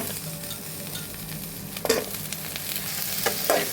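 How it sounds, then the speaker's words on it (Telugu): Vadiyalu sizzle in hot oil in a pan while being fried for a drumstick curry. The frying is a steady crackle, with louder spatters and scraping stir sounds now and then, and no talking. "ఇగో ఉడయాలు వేగుతున్నాయి."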